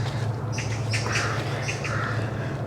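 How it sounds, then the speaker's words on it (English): Magpies calling in a sunlit forest, a few harsh squawking chirps scattered over a steady low hum, moderately close and without talk. "And I can hear magpies."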